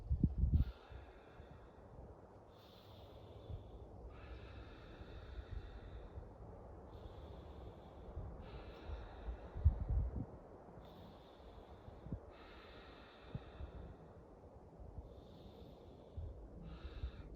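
Deep, rhythmic breathing during a power yoga strength and flexibility class: slow, repeated airy inhales and exhales in regular cycles, close to the microphone and fairly quiet, with occasional soft snorts and bumps of movement.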